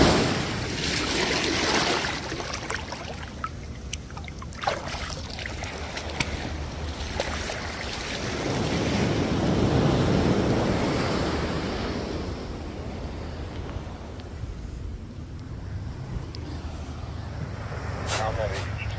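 Ocean surf rolls in along a beach, a steady wash of waves swelling loudly midway with wind buffeting the microphone, while people talk intermittently over it.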